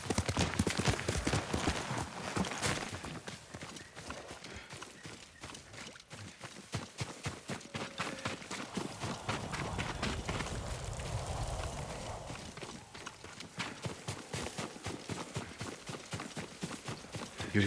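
Horse hooves clip-clop at a steady galloping rhythm in the video game Ghost of Tsushima, loud and close throughout, with no talk over them.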